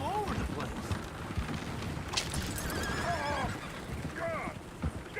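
Horses neighing and whinnying in the Western video game Red Dead Redemption 2, repeated loud whinnies over clip-clopping hooves and a noisy background of activity.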